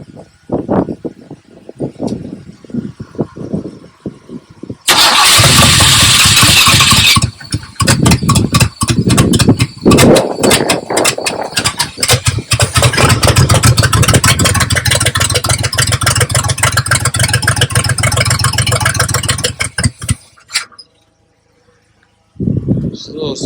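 A 1972 Buick Riviera boat tail's engine cranks and fires after sitting for years, then settles into a loud, rough, close idle, with voices speaking over the start and a brief restart at the end.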